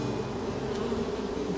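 A honeybee swarm marches into a box, a dense, steady buzzing hum from many bees up close, with no talking.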